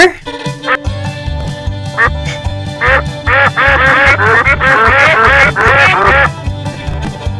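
Loud cartoonish duck quacks sound in quick repeated bursts over a bouncy rhythmic music bed, used as a comic jingle introducing a segment.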